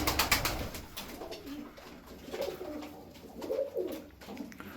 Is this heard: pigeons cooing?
yes